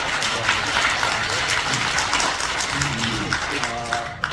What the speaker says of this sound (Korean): 여러분 어떠신지 한번 박수 한번 해주실래요?